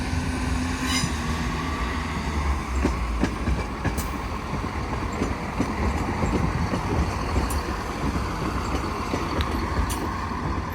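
East Midlands Railway diesel unit 175.31 pulls away from Doncaster station, a steady engine rumble with clicks of wheels over joints and a brief squeal, heard from the platform at moderate loudness.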